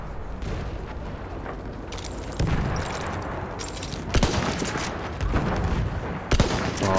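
Repeated gunfire from a Battlefield 1 match, with steady rumbling battle noise broken by several louder sharp shots and blasts, and no clear talk.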